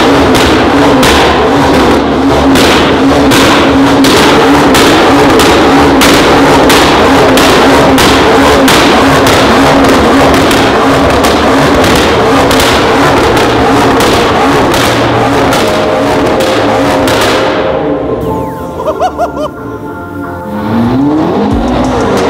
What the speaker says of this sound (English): I want to hear some revs.